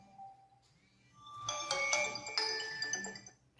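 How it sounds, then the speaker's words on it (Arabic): An alarm clock rings with bright, repeated electronic tones, rising out of a quiet room, holding steady for a couple of seconds, then fading, with no talk. "المنبه اللي عمال يرن ده."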